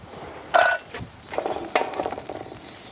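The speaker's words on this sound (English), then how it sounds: "I'm going to cook these skin side down first. Kind of get a nice little sear on the skin." Chicken skin sears skin side down in a sauté pan over an outdoor grill by a lake, with sharp sizzling bursts and stirring clatter rising and fading across a few seconds, close up and without talk.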